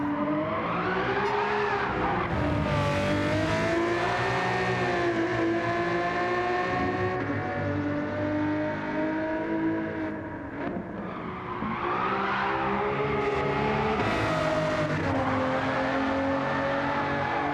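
A Ferrari 250 GTO races in Gran Turismo 7, its engine revving and climbing through gears in a continuous loud, rich howl, dipping briefly mid-way before building again, with no talking.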